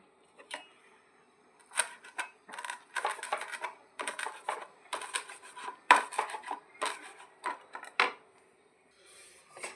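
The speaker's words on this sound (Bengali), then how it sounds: "মুখরোচক করার জন্য এই ধনে পাতাটা খুব কুচি কুচি করে দিয়ে দিতে হবে।" Coriander leaves are finely chopped with a knife on a board, close, crisp clusters of quick cuts in irregular bursts separated by short pauses.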